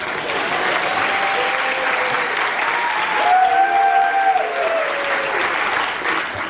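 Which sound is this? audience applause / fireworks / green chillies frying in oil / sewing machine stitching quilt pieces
audience applause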